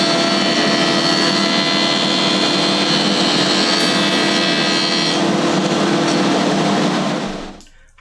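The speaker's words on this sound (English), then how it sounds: "I want to smooth it off over at the planer jointer" A planer jointer roars loudly and continuously as it smooths the laminated faces of wooden table legs, a steady high whirring cut that winds down and stops at the end, with no voices.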